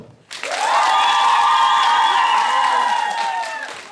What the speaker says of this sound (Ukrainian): учасники аплодують залу.